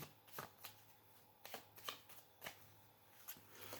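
Playing cards being shuffled close up and quietly, several brisk riffles and snaps spaced unevenly over a few seconds, with no voices.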